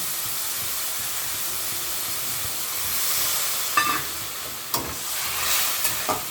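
Water, about half a cup, hits a hot pan while cooking pasta, raising a steady broadband hiss of steam and sizzle that swells midway, with a few sharp crackles and clinks near the end; no talking.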